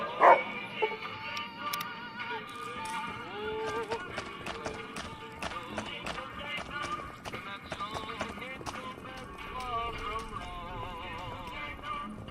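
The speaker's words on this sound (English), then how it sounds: "isn't that the king's dog?" A dog barks in Fallout New Vegas, repeated short yaps mixed into busy game sound with footsteps, hoofbeats and voices.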